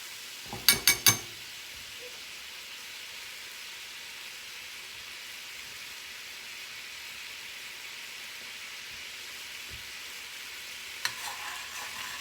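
Chicken breast pan roasting over high heat, a steady broad sizzle running throughout, with a few sharp clattery knocks at the start and again near the end.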